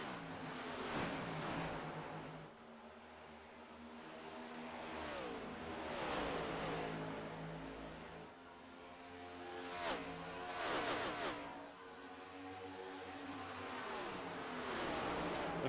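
NASCAR race car engines in a racing video game drone and rise in pitch with repeated revving swells as cars pass and accelerate, running under a race commentator's talk.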